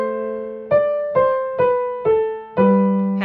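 A piano plays the measure-5 mordent in Bach's Minuet in G as a few clear, evenly spaced notes that each decay, ending on a held note, heard alone and up close.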